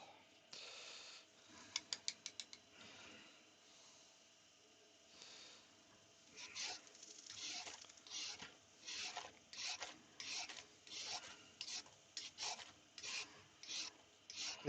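A yew wood bowl on a lathe is worked with gentle hand sanding, a soft raspy rubbing heard close but quiet. Strokes repeat in a steady rhythm of back-and-forth passes after a few quick clicks early on.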